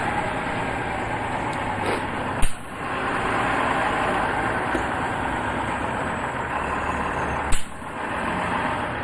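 A city bus engine rumbles steadily nearby on a street during a bike ride, with a continuous low drone and traffic noise, punctuated by two brief sharp clatters.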